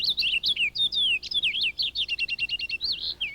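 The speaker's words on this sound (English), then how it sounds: "These lovely birds are the purple finches, more rotund and deeper raspberry in color." Purple finches chirping in a busy run of high, rapid tweets and warbling notes, close and clear, with no talking over them.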